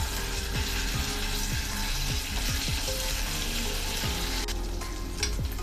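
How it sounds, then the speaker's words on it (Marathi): Ginger garlic paste sizzles and fries steadily in oil in a pan, a constant crackling hiss with faint stirring scrapes, close up and without talk. "यामध्येच मी आलं लसणाची पेस्ट काढून घेते मिनिटभर परतून घेऊया"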